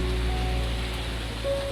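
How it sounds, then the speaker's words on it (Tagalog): Rain falls at a campsite as a steady, even wash of noise with no clear separate drops, holding at a constant moderate level throughout, with no talking. "Ang ulan, parang isang musikang nagmumula sa kalikasan."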